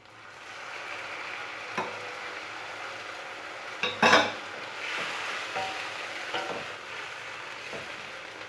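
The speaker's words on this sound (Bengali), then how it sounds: "গরম জল দিচ্ছি।" Hot water poured into a pan of frying ginger-garlic paste and browned onion while cooking rajma, giving a brief loud hiss and bubbling burst midway, framed by faint utensil clinks and a low steady sizzle.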